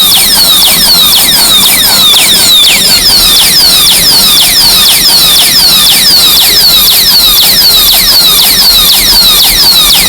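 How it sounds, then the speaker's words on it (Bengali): Anti-theft alarm lock fitted to a motorcycle shrieks loud and close, sounding a fast run of repeated falling electronic chirps without a break. "হাত দেওয়া মাত্র এভাবেই অ্যালার্ম বেজে উঠবে"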